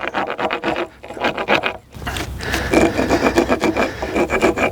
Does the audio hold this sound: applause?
no